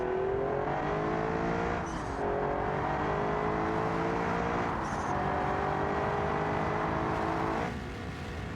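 A V10 Toyota Supra engine in the BeamNG.drive driving game holds a steady, loud, high-revving drone, with short dips where it shifts gears before pulling again.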